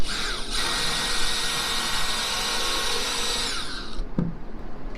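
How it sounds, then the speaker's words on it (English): A power drill pre-drilling holes in wood whines continuously at high speed for about four seconds, then cuts off with a short clunk as it winds down. "We even pre-drilling holes."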